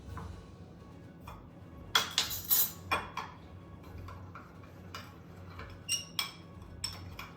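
Stirring a chemical solution in a container gives a series of light clinks and ticks, a quick cluster near the start and a few scattered taps later, over a steady low background hum.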